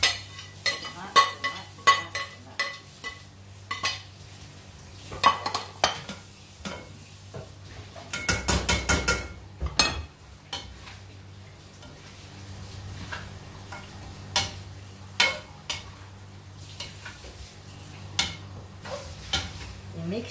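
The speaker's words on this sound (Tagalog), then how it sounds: "I-mix na si karne." Meat being stirred in a frying pan for lamb biryani, with scattered sharp scrapes and clinks of a utensil against the pan over a low sizzle, plus one denser clattering burst midway.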